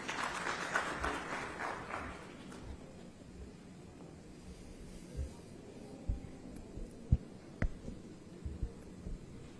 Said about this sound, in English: Let's welcome with a round of applause.